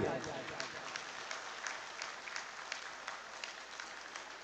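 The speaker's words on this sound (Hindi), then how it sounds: "एक बार इन अग्रिम पंक्ति वालों के लिए तालियां उठाइए" Applause from an audience at a college alumni meet fills the whole stretch, a steady dense crackle of many hands clapping, loud and continuous with no talk over it.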